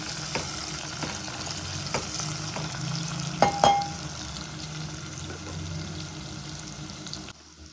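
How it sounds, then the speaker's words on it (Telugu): Onions frying in a pan for a bitter gourd (kakarakaya) curry, a steady soft sizzle with a few louder stirring scrapes and clinks near the middle, no talk. "ఉల్లిపాయలు మగ్గాయేమో చూద్దామండి. మగ్గుతున్నాయి."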